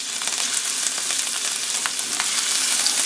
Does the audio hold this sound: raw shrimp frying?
yes